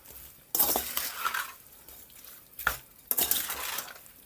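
Spoon scraping and clinking inside a pot of Jamaican curry cow head and tripe as it is stirred, in two short bursts of close metallic rattling separated by a quiet pause.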